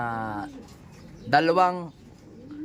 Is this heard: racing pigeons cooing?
yes